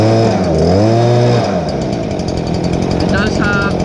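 A Stihl BG86 leaf blower, already warm and unchoked, fires up: a low sputtering pull rises into a loud, steady high-revving engine drone that holds close and continuous to the end.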